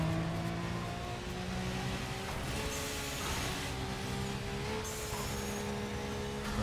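A racing car's engine in Burnout Paradise roars steadily and close, its pitch climbing and dipping through gear changes with no pauses and no talking.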